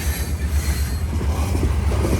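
A heavy loaded rock train hauled by several locomotives rolls past close by, a loud continuous rumble of wheels and cars with faint metallic squeal and no break in the noise.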